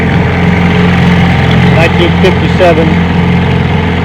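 A 1957 Johnson AD-11 7.5 HP outboard motor, lightly restored with its patina kept, runs steadily at idle on a bayou, a continuous low engine drone with someone talking over it.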